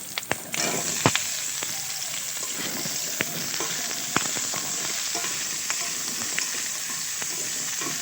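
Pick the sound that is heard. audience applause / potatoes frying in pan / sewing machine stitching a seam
potatoes frying in pan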